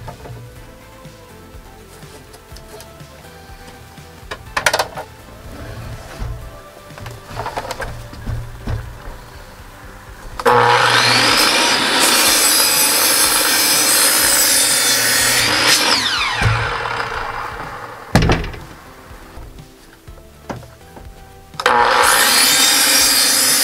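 A saw notches wooden boards for a large aquarium tank stand, long loud bursts of rough sawing broken by quieter gaps of scraping and knocking, close by with no talk.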